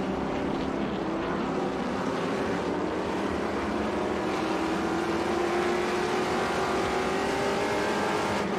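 Trans Am TA2 race car at full throttle at Sonoma, recorded onboard: a loud, steady engine roar with a slowly rising pitch continues without a break, with no talking.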